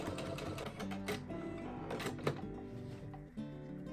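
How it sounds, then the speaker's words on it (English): A sewing machine stitches steadily across the top of a fabric rice-filled heat and cold therapy pack, its rapid mechanical whir running continuously up close with a couple of brief jolts near the end. "I'm going to go ahead and just sew all the way across the entire top"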